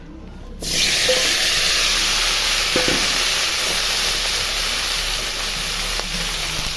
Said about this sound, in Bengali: আর সবজিটা আমি দিয়ে দিচ্ছি।